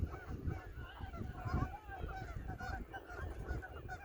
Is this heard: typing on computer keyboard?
no